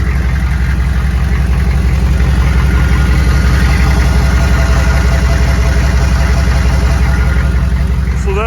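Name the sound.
turbo diesel truck engine running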